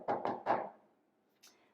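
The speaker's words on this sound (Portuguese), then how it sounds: "alguém bateu na porta" Three quick knocks on a wooden door, sharp and close, followed by a pause and one fainter tap, with no talk over them.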